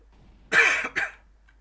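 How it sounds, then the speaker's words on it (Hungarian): A person gives a short double cough, close and fairly loud, during a Counter-Strike: Global Offensive match. Two quick bursts come within about half a second, with quiet before and after. "köhögtél, nem tudom, megijedtem tőle"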